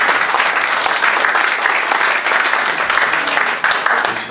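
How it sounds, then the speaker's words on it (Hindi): Audience at a London poetry mushaira breaking into loud, dense applause, a thick wall of clapping that carries on without letup, with a few voices mixed in. "तालियां बजाइए"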